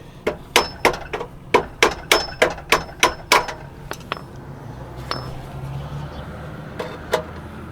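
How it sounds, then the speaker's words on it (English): Metal hammer blows on a BMW F80 M3 carbon exhaust tip held with pliers: about a dozen sharp, close, clinking strikes in a steady rhythm, then a few scattered lighter taps. "and I'm just hitting it with a friggin' hammer."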